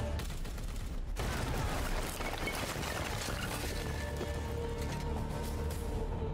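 A sustained burst of gunfire from Warhammer 40K: Chaos Gate - Daemonhunters, a dense, steady rattle of shots that runs throughout at a fairly low level with no talking over it.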